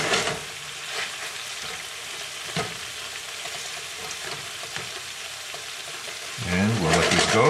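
Spare ribs for sweet and sour ribs sizzle and crackle steadily in a hot pan, with a louder burst of frying and scraping as they are stirred near the end.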